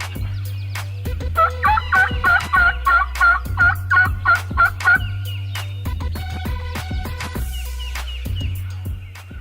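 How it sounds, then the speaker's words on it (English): Wild turkey gobblers gobble in Ohio woods on the first day of turkey season, a run of rapid, rattling gobbles repeating in a steady burst, then scattered calls, with no voices. "we heard 2 gobblers gobbling over there about 400 or 500 yards"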